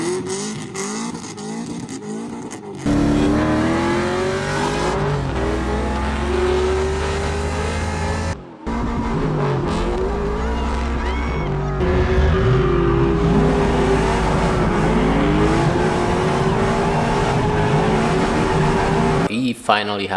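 A race car with an LS1 V8 engine drives hard, its engine revving up and down through gears with sweeping pitch changes, loud and close, and a brief cut midway.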